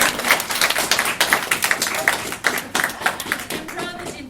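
A small group in an improv workshop applauds themselves with sharp, distinct hand claps at close range, irregular and lively, fading toward the end.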